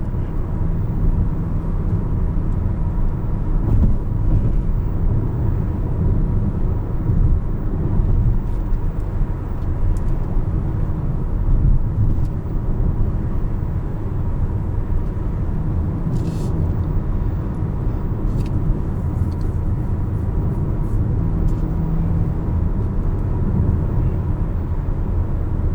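2020 Ford Escape Titanium accelerating, a loud, steady low rumble of engine and road noise from inside the cabin, continuous without pause.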